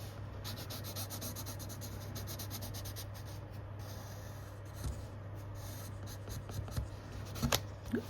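Pen or pencil writing in a journal, with soft continuous scratching strokes close by over a low steady hum, quiet and unbroken with a few small bumps near the end.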